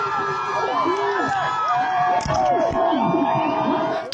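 A crowd cheers and whoops loudly at a public confrontation where a journalist is being tackled, with shouting voices rising and falling over a continuous roar close by.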